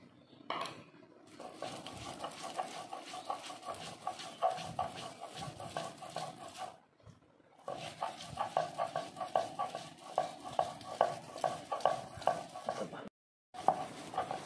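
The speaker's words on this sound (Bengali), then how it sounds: "এবার মাছগুলো বেটে নেব।" Dried shrimp being ground into a paste for bhorta, a steady, rhythmic scraping and grinding close up that runs in two long bursts separated by a brief pause.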